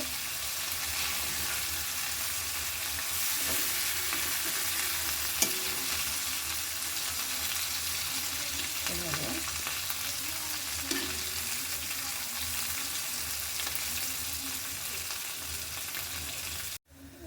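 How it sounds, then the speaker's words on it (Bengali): Shing catfish pieces being fried down in oil, with a steady loud sizzle running throughout and occasional scraping stirs of a utensil in the pan, no voices. "এই দেখুন আমার মাছ কষানো হয়ে গেছে"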